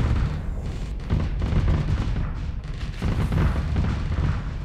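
Ship weapons blasting in a Starsector space battle, a dense barrage of heavy booming shots rolling continuously and loudly with scarcely a pause.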